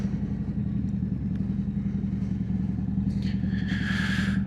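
A motorcycle out on a leisurely fall ride, its engine droning steadily at low pitch throughout, with a brighter whine rising near the end as it picks up speed.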